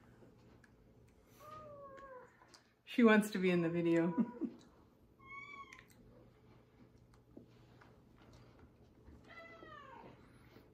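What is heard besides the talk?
cat meowing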